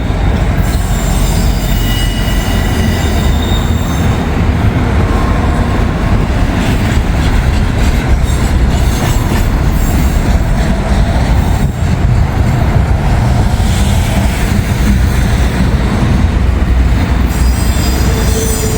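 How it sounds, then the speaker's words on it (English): A freight train carrying FedEx containers rolls past close by in Kentucky, a loud, continuous rumble of wheels on rails with squealing wheel tones and rattling cars throughout. "We might have a train come down the hill at the same time"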